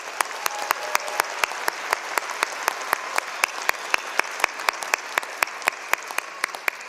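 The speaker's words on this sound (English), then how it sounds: "So I just want to clap." Audience applause at a law school commencement ceremony, a steady stretch of clapping with sharp individual claps standing out in a fairly even rhythm, moderately loud and sustained throughout with no talk over it.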